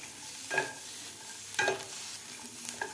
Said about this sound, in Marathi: गवार आपल्याला व्यवस्थित असे डाग पडेपर्यंत व्यवस्थित भाजून घ्यायचे आहे